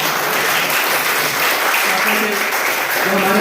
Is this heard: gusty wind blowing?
no